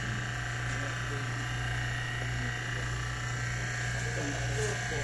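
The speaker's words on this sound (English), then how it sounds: "So we'll just vacuum this so we don't need to purge." A vacuum pump evacuates a refrigeration system before an R-600a refrigerant top-up, giving a steady, loud, close electric drone with a constant low hum and buzzing overtones that runs without a break.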